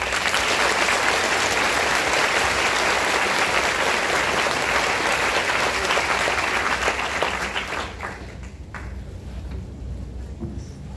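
Steady, dense applause from a concert audience at a school symphonic concert, loud and sustained for several seconds before fading into scattered claps near the end.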